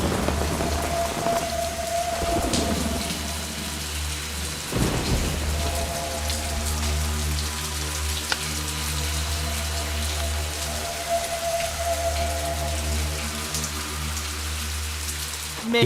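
Heavy rain pours steadily in a film scene, a dense close hiss with a low rumble of thunder rolling underneath, unbroken throughout.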